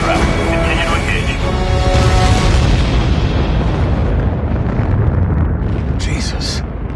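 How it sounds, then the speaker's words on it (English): Explosions in the combat flight game Ace Combat: Assault Horizon: a loud, sustained rumbling blast with a dense roar that slowly fades, mixed with music and voices. "Another of those explosions"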